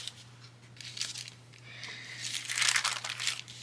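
Planner sticker sheets handled at close range, with bursts of crinkling and rustling paper that swell louder toward the end, heard alone at a soft level.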